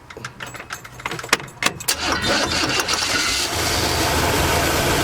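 A 1979 Chevy G20 custom van engine cranks in several uneven bursts, then catches and settles into a loud, steady running idle close by.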